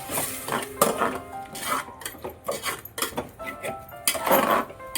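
A spoon stirs and scrapes pulao masala of onion, garlic, ginger paste, garam masala and chillies in a metal pot, making repeated close clinks and scrapes in an irregular rhythm with no talk.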